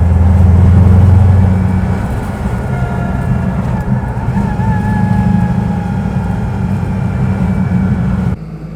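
A car engine drones under full throttle on a test drive, a steady loud mechanical roar with a rising whine, easing slightly midway and cutting down abruptly near the end.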